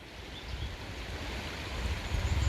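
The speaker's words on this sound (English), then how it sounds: "the water is lapping in" River flood water lapping at the shore during storm Amy in constant rain, a continuous broadband wash with low rumbling surges building slightly toward the end.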